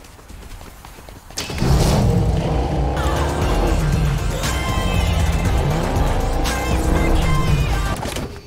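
A car in the battle royale game Fortnite roars to life and revs hard nearby, its engine pitch sweeping up and down with squealing tires throughout.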